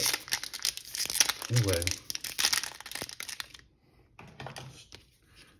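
Crinkling plastic wrapper of a Magic: The Gathering Brothers' War collector booster pack being opened, close crackly rustling in quick bursts that fade out, with someone talking over part of it.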